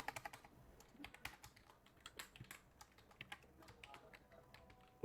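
Rapid, uneven typing on a computer keyboard, with dense clicky keystrokes in bursts close to the microphone and no speech.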